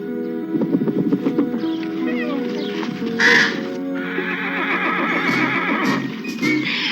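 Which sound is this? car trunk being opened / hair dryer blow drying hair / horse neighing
horse neighing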